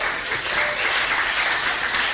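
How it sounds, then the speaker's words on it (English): Loud, dense audience applause at a student society and volunteering awards ceremony, a continuous wash of many hands clapping without pause. "Keep clapping, come on,"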